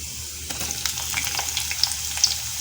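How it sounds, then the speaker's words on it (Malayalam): Sliced onion hits hot oil with frying ginger and garlic, giving a steady close sizzle with scattered crackles and pops from the pan, no voices over it. "ഇനി നമുക്കിതിലോട്ട് സവാള അരിഞ്ഞു വെച്ചിട്ട് കൊടുക്കാം"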